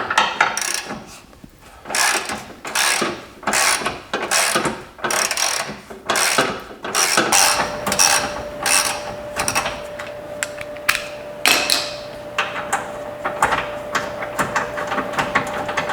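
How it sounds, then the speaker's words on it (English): A ratchet with a 13mm socket loosening the bolts of a battery bar on a Chrysler 200, rapid bursts of metallic clicking repeating in quick strokes, close and loud, later joined by a steady faint tone. "Let's go ahead and start by removing this bar right here. Now you're going to want a 13mm socket."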